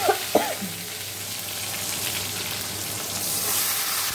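Tomato and green chilli hit hot oil with radhuni tempering in a pan for a fish curry, giving a steady broad sizzle throughout with a couple of faint clinks near the start, no talking.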